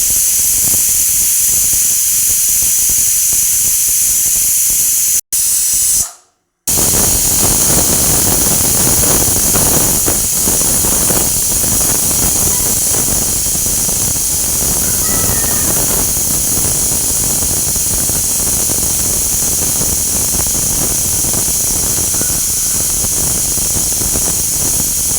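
A pressure cooker sends out a loud, sustained jet of hissing steam while vegetable pulao cooks, roaring close and continuous for most of the stretch with one brief cut near the start.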